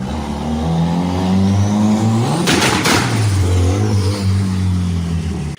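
A car engine revs and roars in a channel intro sting, loud and close, climbing and dropping in pitch with a brief whooshing pass in the middle, no voices.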